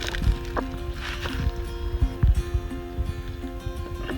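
A hiking water filter is back flushed on the Lone Star Hiking Trail, giving close squishy sloshing and gurgling water pulses with soft squeezes and thumps, fairly loud and steady throughout.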